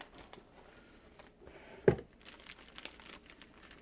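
Soft, scattered crinkling of a plastic bag, with one sharper rustle in the middle, close and quiet.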